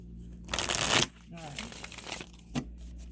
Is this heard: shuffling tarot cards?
yes